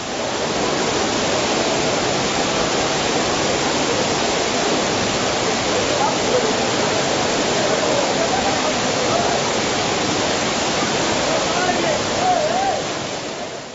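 Kutralam's main waterfall in flood after rain, water pouring over the arch in a loud, steady, broadband roar that holds constant throughout without pause.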